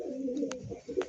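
Cooing from a Lalful Andhra pigeon, a male held up to show its tail, comes as a soft low murmur with two brief brighter bursts, probably wing flaps, close by.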